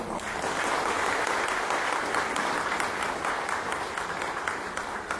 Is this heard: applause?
yes